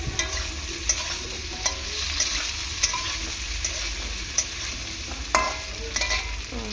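Chopped tomato fries in a pan for a potato curry, a constant hot sizzle punctuated by regular spatula scrapes and taps against the metal, close and fairly loud.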